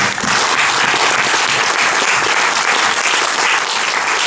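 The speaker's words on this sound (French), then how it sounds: "on peut les applaudir quand même" At a film premiere screening, an audience applauds steadily for the cast, a dense, even wash of many hands clapping throughout, loud and unbroken.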